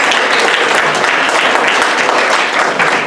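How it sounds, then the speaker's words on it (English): Dense, steady applause from a crowd at a high school varsity soccer banquet, loud and continuous throughout with no break. "So big round of applause for them."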